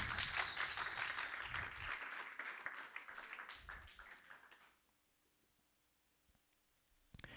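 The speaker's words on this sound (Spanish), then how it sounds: "Esas palmas son aguadas." A church congregation claps weakly and unevenly for a few seconds, then it fades to near silence before one last faint burst.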